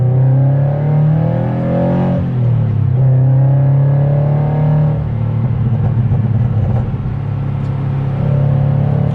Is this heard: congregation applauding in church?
no